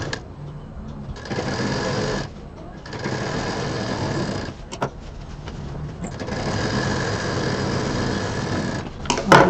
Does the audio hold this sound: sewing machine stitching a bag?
yes